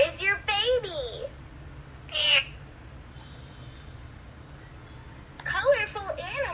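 A cat meows in a children's animal-sounds segment on a farm: two quick meows close together at the start, another short meow a moment later, and a final cluster of meows near the end, loud and close over a low steady hum.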